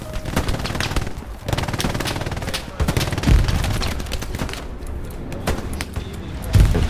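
Gunfire in Hell Let Loose, a World War II shooter: machine-gun bursts and rifle shots crackle continuously, some near and loud, others distant, over a dense battlefield din.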